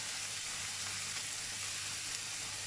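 Green chilli and ginger garlic paste sauté in a hot pan for a mushroom tikka masala, giving a steady, even sizzle that holds without a break. No one speaks over it.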